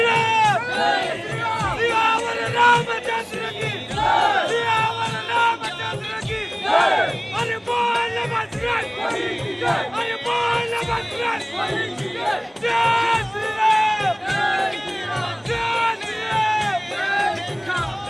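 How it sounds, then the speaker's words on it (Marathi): A large crowd on the way to Khultabad Maruti temple shouts slogans in rhythmic unison, a loud, dense chant of many voices that rises and falls in repeated waves throughout. "मध्ये येऊन म्हणलं थोडेफार घोषणा देऊ मस्त गर्दी होती खूप छान"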